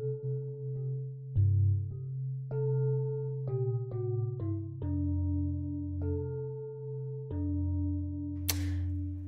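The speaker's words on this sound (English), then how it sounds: "what does a pot and onion sound like?" A pot and onion sampled as a pitched instrument, a sequence of resonant sustained tonal notes stepping through different pitches, close and clean, with a brief bright clatter near the end.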